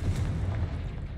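Confringo blasting spell explosion in Hogwarts Legacy, a deep rumbling boom with heavy low-end body lasting about a second, loud and close with no talk over it.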